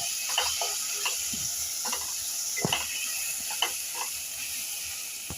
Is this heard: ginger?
yes